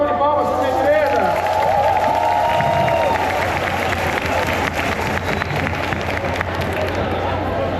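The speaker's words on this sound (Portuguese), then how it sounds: "Uma salva de palmas, por gentileza!" At the opening of a national culture committees meeting, a large audience claps and cheers in a sustained, dense burst, with crowd murmur mixed in and a voice briefly audible at the start.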